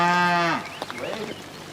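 Cows lowing on a farm, one long loud harmonic moo opening the clip, followed by fainter, rougher lows and shuffling from the herd nearby, eager to move into another field.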